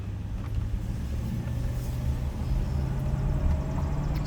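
A 1986 Mercedes W126 420 SEL accelerates under part throttle without kickdown, heard from inside as a steady low engine drone and road rumble that swells gradually, smooth and unhurried, with no talking.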